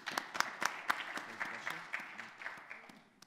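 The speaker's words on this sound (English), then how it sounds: "big hand of applause to our speakers" Applause for conference speakers at a toxicology conference session, a faint, sparse scattering of individual claps from a small or distant group, tapering off toward the end.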